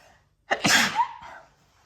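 A single sharp, close sneeze bursts out after a brief quiet, trailing off into a short breathy exhale.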